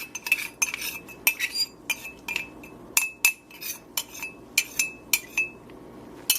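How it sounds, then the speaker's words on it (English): A utensil stirring a dissolving lye solution clinks against the container in an irregular series of sharp, bright taps and scrapes, with quiet gaps between strokes. "Give that a little bit more of a stir"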